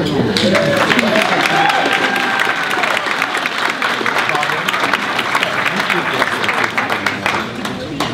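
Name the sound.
audience applause for school principal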